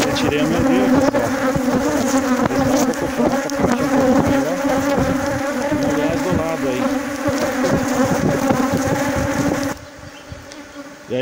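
Dense, loud buzzing from honey bees swarming around an opened hive with its honey super removed, continuous and close, with faint talk beneath it and the buzz dropping off near the end.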